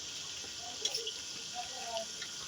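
Water running from a tap in a home kitchen while cooking, a soft continuous hiss and splash at moderate distance, with faint clinks and brief voices talking in the background.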